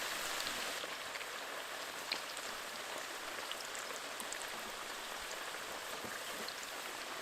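Potato fries sizzle in hot oil in a pan, a steady, even hiss and crackle with no break.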